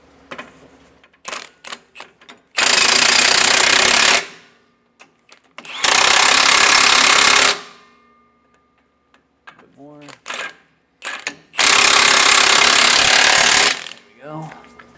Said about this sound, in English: I'm going to snug these down with my impact just a bit